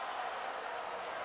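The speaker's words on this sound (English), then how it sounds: "The crowd is really into it." Broad crowd noise fills a WWE 2K24 arena, a constant loud wash of cheering and murmur without breaks, lasting only a moment.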